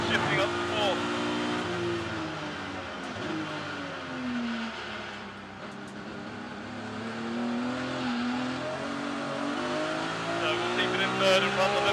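A BMW race car in the Kumho BMW Championship laps the Brands Hatch Indy circuit, its engine droning loud and continuous with rising and falling revs as it climbs through the gears and runs the limiter, under commentary speech.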